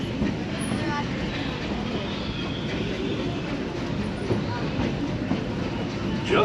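The Disneyland Railroad train rolls steadily along its tracks, a continuous rumbling clatter of wheels and cars with occasional faint squeaks, with a voice speaking over it.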